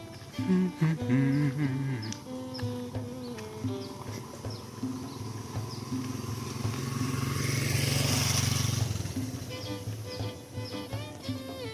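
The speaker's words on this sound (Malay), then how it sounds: "Ini kalau kenapa banyak motor lewat" Motorcycles pass along a lane in an old village on Dompak Island, Tanjung Pinang, one engine swelling loudly as it approaches and fades, with quieter engine hum and clatter before and after.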